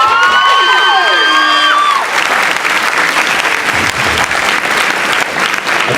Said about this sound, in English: I know y'all just clapped